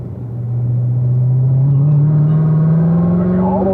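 A race car accelerates on the Spring Mountain track, its engine droning loud and close with a steadily rising pitch as the throttle opens, with no talking over it.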